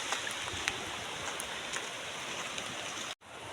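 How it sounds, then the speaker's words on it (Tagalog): Heavy rain falls near a river in a continuous dense hiss with scattered louder drops, steady and fairly close, cut by a brief drop-out near the end. "Grabe, hindi na makita dahil sa lakas ng ulan."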